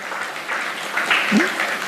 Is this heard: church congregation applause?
yes